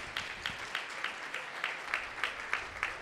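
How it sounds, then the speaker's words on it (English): A dance competition audience applauds in a steady wash of clapping, with regular louder surges roughly every quarter second, moderately distant and without talk. "give yourselves a huge round of applause"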